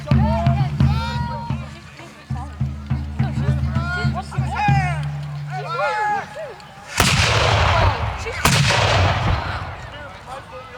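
Covenanter-era battle with loud cannon and gunfire, heavy booming blasts bursting in around the seventh and eighth seconds after a stretch of narration and background music, the explosions crackling and ringing out near and harsh.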